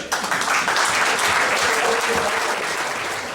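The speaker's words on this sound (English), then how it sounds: "give him a round of applause for our friend" Sustained audience applause for a Rotary district conference honoree, dense and steady throughout, at close-to-moderate distance with no speech over it.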